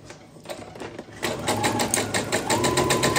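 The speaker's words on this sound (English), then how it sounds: "start at the very beginning and sew to the very end, and I will chain piece" A sewing machine chain piecing quilt fabric runs in a steady, fast needle rhythm, starting softly and then stitching continuously at close range, loud and without any voices.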